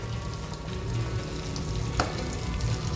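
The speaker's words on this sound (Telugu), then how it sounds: "చూడండి, చక్కగా కలర్ వస్తున్నాయి, మంచిగా ఫ్రై అవుతున్నాయి." Chicken nuggets fry in hot oil while turning golden brown, giving a close, continuous bubbling sizzle that stays fairly even throughout, with no voices over it.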